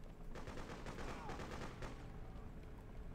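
Rapid bursts of automatic gunfire crackle through a battle in the 2003 game Freedom Fighters, quick overlapping shots in a dense volley, fairly faint against the noisy background of the fight.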